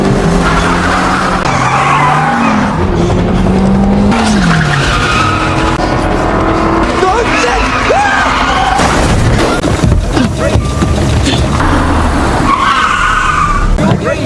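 Car chase with tires skidding and squealing through a loud, continuous stretch, engines roaring and a boom mixed with dramatic film-style sound throughout.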